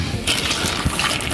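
Water overflows and sloshes from a container while seafood is unloaded, a short gushing, splashy pour.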